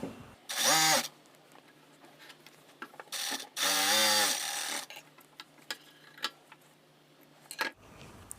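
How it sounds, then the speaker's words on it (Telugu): A sewing machine top stitches a blouse in two loud bursts, one short and one longer, with quiet handling clicks and small knocks in between. "ఇలా పైనుంచి ఒక టాప్ స్టిచ్ వేసేసుకోండి"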